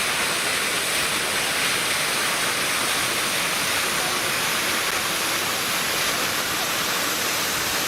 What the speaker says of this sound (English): There's 3 waterfalls coming down there, cascading off the side of the mountain.